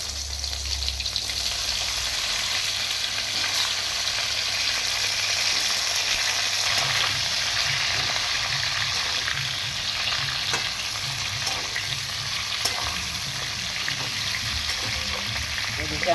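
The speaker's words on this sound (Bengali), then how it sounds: "আবার বাকি তেলটাই আমগুলো ভেজে নেব।" Mango pieces sizzle in hot oil in a pan while sweet mango pickle is being made, a steady close crackle with occasional stirring scrapes and bubbling throughout.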